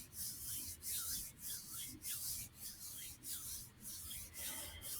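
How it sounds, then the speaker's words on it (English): Hands rubbing together briskly, a close, soft rhythmic swishing of skin on skin, about ten even back-and-forth strokes, quiet and alone. "begin to rub your hands together"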